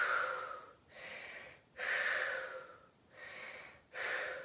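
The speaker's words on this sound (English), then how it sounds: "a couple deep breaths" Four slow, deep breaths during a home workout, each a long airy inhale or exhale with brief pauses between, close and clear with no talking.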